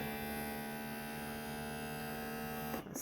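A vacuum sealer pump running on a jar lid gives a steady electric hum at low volume, then cuts off abruptly near the end.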